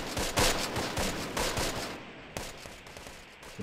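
Rapid bursts of battlefield gunfire from the World War II strategy game Close Combat: The Longest Day, volleys and single cracks tumbling over one another in a dense, continuous fusillade with no voices.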